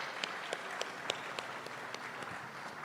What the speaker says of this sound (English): it's really okay to applaud for our sponsors